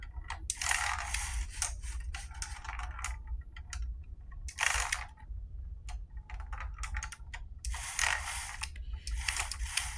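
A LEGO Spike Prime soccer robot's motor runs at full power, giving repeated whirring, clattering bursts with gear-like ratcheting between them, close by and fairly steady throughout.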